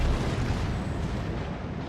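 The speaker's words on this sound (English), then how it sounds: "His secondaries are doing some work" Secondary guns on a warship in a naval battle video game, firing as a dense, continuous rumble of blasts with no clear gaps between shots, loud and full throughout.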